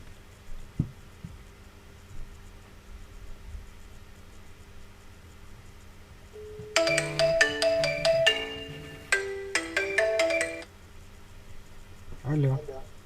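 An iPhone rings during an outgoing test call, a bright electronic ringtone pattern repeating in quick bursts over a faint background hum, with a short voice after it.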